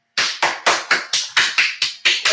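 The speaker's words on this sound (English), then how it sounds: "clapping for myself" A single person claps their hands about nine times in a steady, fairly quick rhythm, each clap sharp and close with no voices alongside.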